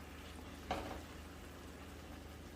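Nopal cactus pads cook in a pan with a faint, steady sizzle, and a brief louder burst of frying rises once before settling back into the low hiss.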